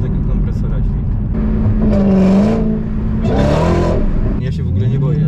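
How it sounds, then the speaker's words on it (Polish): Supercharged Dodge Challenger accelerating hard, with the engine rising in pitch in two strong surges and the supercharger whining over the roar. Nearby and loud, with people talking inside the car. "Mi się najbardziej podoba tego kompresora dźwięk"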